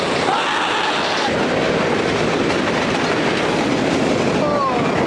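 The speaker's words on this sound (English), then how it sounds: "Yo, there's a train coming." A train roars past very close, a loud continuous rumble and rattle of wheels on track filling the whole stretch, with a faint squeal near the end.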